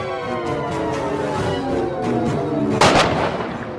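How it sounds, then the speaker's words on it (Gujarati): A Diwali firecracker bomb goes off once near the end, a sharp, loud, close burst standing out over steady background music. "ટેટો ફોડવા જાવું હું"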